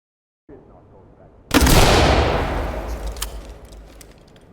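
Gunfire punches through walls in the tactical shooter Ready or Not: a sudden heavy burst of shots erupts after a quiet stretch and rumbles on with a long decaying roar and a few sharp cracks.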